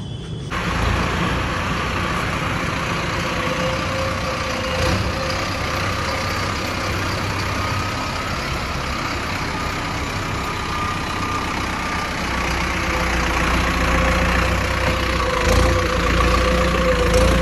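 A new 4WD tractor, an Arjun 605 or Swaraj 855, idles with a loud, steady diesel rumble that holds throughout and swells slightly near the end, with no one speaking.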